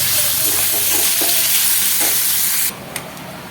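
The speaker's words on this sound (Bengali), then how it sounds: "ভালো করে এটা ভাজবো" Carrots, potatoes and crushed peanuts for chow mein fry in a pan with a steady loud sizzle and hiss, broken by soft stirring scrapes, then the sizzle drops away abruptly near the end, leaving a faint hiss and one brief clack.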